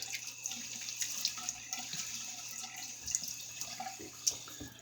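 Running water from a sink faucet splashes steadily as a face is wetted for a shave, a close, continuous hiss and patter with small splashes and drips throughout, no talking.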